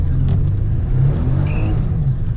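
A 1992 Nissan 300ZX turbo accelerates hard, its loud close engine note surging and revving continuously as boost builds, with no talk over it.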